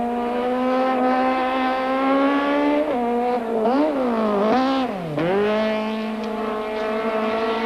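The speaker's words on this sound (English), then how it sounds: "Glenn Gibbons enters the stadium, giving the spectators a show of potent 4-wheel drive power." A four-wheel-drive rally car at a 1991 stadium stage, its engine loud and close, holding a steady drone before revving up and down sharply through gear changes, alone without talk.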